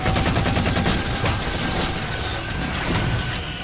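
Rapid assault rifle fire in the Halo 4 video game, a dense continuous rattle of loud shots with mechanical clatter running through the whole stretch, close and sustained without pause.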